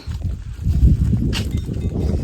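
Cows and buffaloes being herded along, giving a low, close rumble of hooves and movement with a brief brighter clatter midway, no talking.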